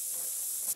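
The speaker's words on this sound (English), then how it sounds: "Do you have spray? You have a can of spray? Oh, yeah, I do. Put that on." A scent spray can in theHunter: Call of the Wild gives one continuous hissing spray burst up close, ending abruptly after under a second.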